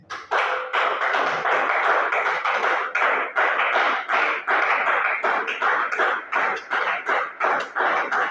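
A church congregation claps together in praise of the Lord, a steady rhythmic run of many hands clapping at an even pace, loud and close, with no talking.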